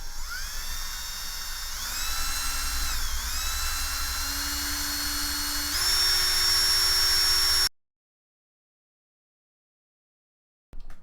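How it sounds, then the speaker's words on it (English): A high-pitched power drill with a 5/32 inch bit whines steadily for several seconds, its pitch shifting slightly as it bites, then cuts off abruptly into silence. "Now once you've drilled the hole, the 5/32 inch drill bit is slightly too small"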